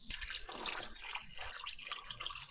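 Running water splashes and patters steadily in a sink as chickpeas are rinsed and shuffled under the stream; no voices.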